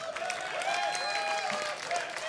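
A concert audience applauds and cheers, steady moderate clapping with a few whistles and shouts, a little distant, lasting throughout.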